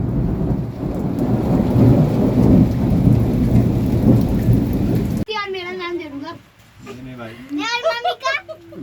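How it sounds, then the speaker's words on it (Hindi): Heavy rain pours with rolling thunder for about five seconds, then gives way to close voices of adults and children talking over a quieter background. "बिजली चमक रही है, कड़क रही है"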